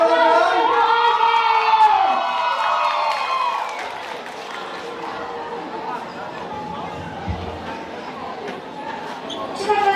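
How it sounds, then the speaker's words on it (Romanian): A school freshman ball crowd in a hall applauds and cheers as music fades out in the first seconds, leaving a sustained, moderately loud wash of clapping, shouts and chatter. "Să ne invităm în scenă pe Albert cu aplauze și urle"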